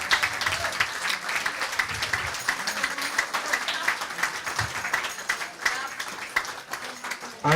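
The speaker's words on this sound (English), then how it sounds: "I'd like to hear a big round of applause for all the players that have taken part this weekend" Continuous, dense applause fills the hall at the WDF Six Nations Cup 2023 darts event for the players, steady and moderately loud for the whole stretch.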